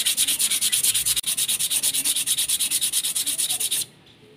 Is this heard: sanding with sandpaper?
yes